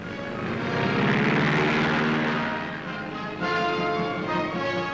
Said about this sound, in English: Headed into the wind, the carrier gives her planes every advantage for the hazardous takeoff.